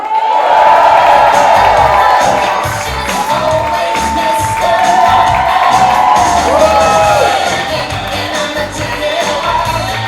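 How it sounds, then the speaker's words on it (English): A live podcast audience in a packed venue claps, cheers and whoops loudly and continuously, a dense crowd roar that swells and carries on for the whole stretch. "please start clapping cheering"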